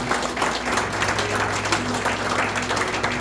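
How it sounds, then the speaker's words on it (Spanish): A church congregation claps loudly and continuously throughout, a dense and steady wash of applause with a faint voice underneath. "si va a aplaudir, hágalo fuerte"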